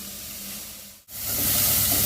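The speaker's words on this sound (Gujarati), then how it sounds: "આ બધું વેજીટેબલ્સને આપણે ફાસ્ટ ફ્લેમ પર 2 મિનિટ જેટલું સાતડી લેશું આપણે" Chopped vegetables with ginger, chilli and garlic sautéing over a high flame for a winter vegetable soup, a steady close hiss that briefly cuts out midway, then returns louder and fuller.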